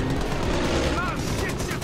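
Rapid gunfire rattles in Far Cry 5, a dense, steady burst of shots filling the brief moment at close range with a voice mixed in.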